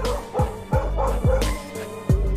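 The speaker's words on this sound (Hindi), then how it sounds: "तब तो ये कुत्ता किनारे पर भौंकता ही रहता है" A dog on a shore barks and yips in a quick series of four or five sharp, loud, close barks, following a fight with a kangaroo, with no voices.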